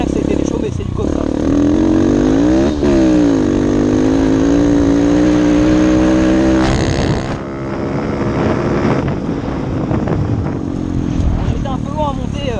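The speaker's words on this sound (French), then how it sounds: "J'étais un peu loin à monter quasiment à la vitesse max, parce que la moto patine énormément." An enduro motorcycle climbs across a stubble field near full speed with its rear tyre spinning hard. The engine is loud and close, its revs rising and holding in a sustained drone before easing and rising again, with wind buffeting the microphone.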